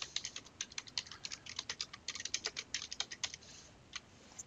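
Rapid typing on a computer keyboard while editing a WordPress page title, with quick irregular key clicks in steady bursts and a few short pauses, close up and fairly quiet with no talking.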